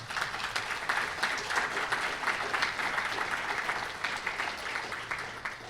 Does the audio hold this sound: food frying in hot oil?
no